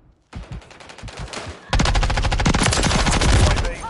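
Gunfire in the Call of Duty: Modern Warfare III multiplayer map Rio, rapid automatic bursts that start moderately loud and then jump to a dense, louder barrage of close shots.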